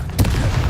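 A fire spell cast in the video game Hogwarts Legacy sounds as one short, sharp whooshing burst over a low rumble, loud and close.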